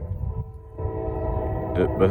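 A northbound Norfolk Southern freight train passes on the Charlotte District, a steady low rumble of wagons rolling by with two short horn blasts near the end, moderately close.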